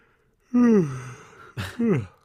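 A drawn-out, voiced yawn that sighs downward, followed by a second shorter yawning breath, close and clear.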